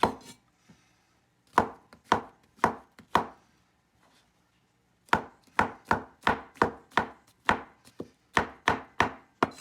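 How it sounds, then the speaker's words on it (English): A knife chopping mushrooms finely on a board for vegetable congee, crisp sharp knocks coming in a few short sets, then a longer fast, steady run of cuts, close and clear with no talk. "the mushroom has all been finely chopped"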